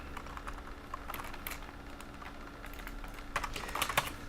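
Quiet, close typing on a computer keyboard at a desk with an 8-core CenTaur CHA prototype PC. Irregular key clicks sound over a low hum, with a denser burst of keystrokes near the end.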